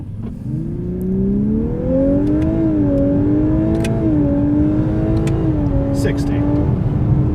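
Sports car, a Lexus LC500 or Corvette Grand Sport, launching on a country road: engine note climbs steadily through the revs in one hard pull, loud and close from inside the cabin.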